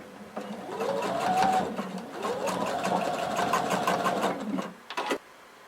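A sewing machine stitches down a folded-under belt loop on a floor-length duster cardigan, running as a steady, close, rapid mechanical whir for several seconds before slowing and stopping with a couple of short bursts.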